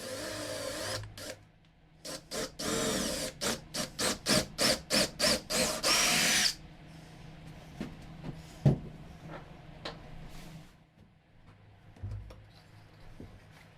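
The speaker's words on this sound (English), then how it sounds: "I just drilled in all the way through the boss and the shield to start with." A power drill bores through a palletwood Viking shield and its boss in a rapid series of short, loud, evenly spaced bursts, followed by quieter handling scrapes and a single knock, with no talking.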